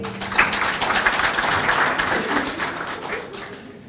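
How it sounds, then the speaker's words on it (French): A conference audience at a cancer care meeting applauds, a full burst of many hands clapping with brief higher cheers, holding steady and then thinning and fading out near the end. "Applaudissez ces gens-là."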